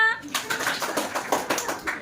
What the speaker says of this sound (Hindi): हमारी अन्वी आई है लिखने के लिए, तालियां।